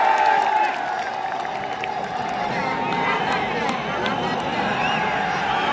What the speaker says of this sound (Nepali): यो दर्शकहरूको हुटिङ छ उहाँको लागि